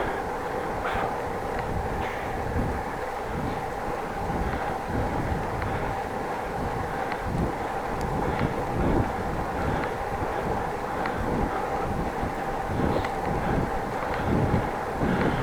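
Steady wind rushes and buffets across a microphone while cycling along a countryside road, a continuous loud roar with gusty flutter throughout.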